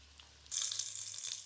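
Cheesy heart-shaped potato cutlets go into oil heated on medium, and a bright sizzle bursts up suddenly halfway through, then holds steady and close for the rest of the moment after a quiet start.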